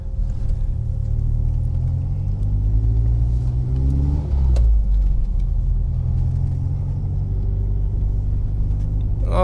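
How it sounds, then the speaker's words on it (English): Turbocharged 20-valve VW Mk2 GTI launching in a race, engine droning loud and close with rising and falling harmonics as the wheels spin, steady throughout. "Oh, so much wheel spin."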